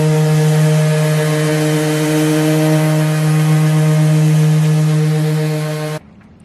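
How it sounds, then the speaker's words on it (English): A steady, loud power sander drones with a strong buzzing hum for six seconds while sanding the top layer of wood on a coffee cart, then cuts off abruptly. "we are sanding down just this top layer because we're going to be painting these"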